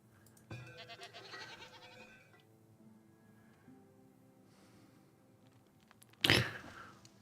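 Goats in the farming video game Farthest Frontier bleat in a few short, nasal calls spread over several seconds, followed by a sudden sharp, loud burst near the end.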